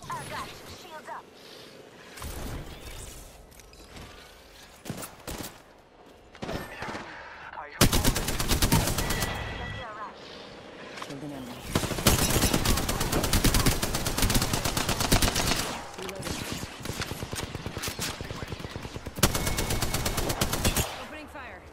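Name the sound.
gunfire in a video game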